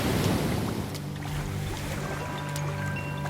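Ocean waves wash and surge steadily in a soft continuous roar with a slight swell near the start, forming calm background surf for a children's bedtime story, with no talking over it.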